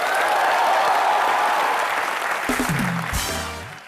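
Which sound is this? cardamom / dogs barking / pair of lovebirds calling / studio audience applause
studio audience applause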